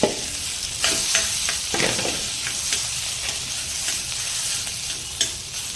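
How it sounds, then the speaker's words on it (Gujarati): Boiled potatoes frying in a pan with ginger and a pinch of asafoetida for a Bombay masala toast sandwich filling, stirred with steady scraping strokes over a continuous close sizzle. "ત્યારબાદ આપણે બાફેલા જે બટેકા હતા તે ઉમેરી દઈશું."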